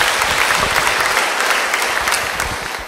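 A congregation claps loudly and continuously, a dense wash of applause filling the whole stretch without pause.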